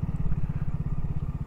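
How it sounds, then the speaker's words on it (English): A BSA Gold Star 650 single-cylinder motorcycle engine held at low revs, giving a close, steady, evenly spaced thumping beat without pause. "let's try keep the revs down as low as possible, because any single cylinder that I've ever owned"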